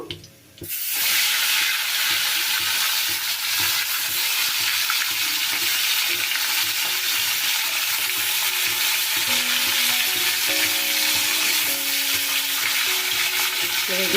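Pomfret fish fry in oil in a pan, a loud, continuous close-up sizzle and hiss that starts abruptly after a brief quiet moment and holds steady throughout, with no talking.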